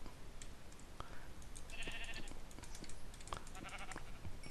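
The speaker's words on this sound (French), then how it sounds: "Mouton." A sheep in a video game bleats faintly twice, each call short and distant, amid quiet ambient noise and light clicking.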